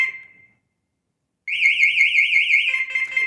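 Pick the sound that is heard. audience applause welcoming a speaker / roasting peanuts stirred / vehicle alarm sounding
vehicle alarm sounding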